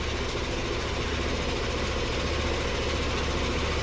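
A Yamaha Nmax scooter engine runs at a steady idle, a dense continuous hum with low vibration and no voices over it.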